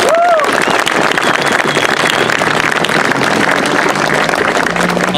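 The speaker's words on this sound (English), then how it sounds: "I want to give a very hearty round of applause to the Moore Street Garrison 2016." A protest crowd on Moore Street in Dublin applauds in a dense, continuous wash of clapping, loud and close, with a brief whistle near the start.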